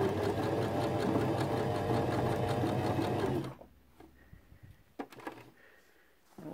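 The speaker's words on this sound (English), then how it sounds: "it's stitching on the back of the hem, and then it comes over and does one stitch into this, which is the top fabric" A Janome FD206 or RE1306 sewing machine stitches a blind hem, its steady motor whir running loud and continuous for about three and a half seconds before stopping, followed by faint handling clicks.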